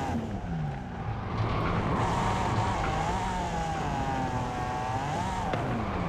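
Chris Forsberg's drift car roars through Formula Drift testing at Long Beach and Seattle in Forza Horizon 5, a loud sustained engine note rising and falling with revs, with tire squeal under it and no talk.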